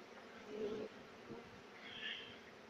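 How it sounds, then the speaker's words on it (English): Faint buzzing of bees passing close by a hive box, a couple of brief rising and fading drones over quiet background. "the bees are going to the box now"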